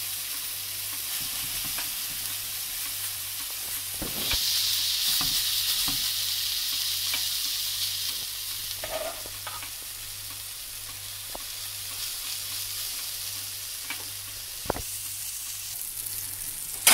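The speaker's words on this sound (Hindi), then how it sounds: "ये हमारा पैन काफी बड़ा है तो हम एक साथ 3 से 4 कबाब बना सकते हैं।" Vegan turnip galawati kebabs, three or four at a time, fry in a large pan with a continuous close sizzle and a few soft clicks and bumps as they are moved, with no voices.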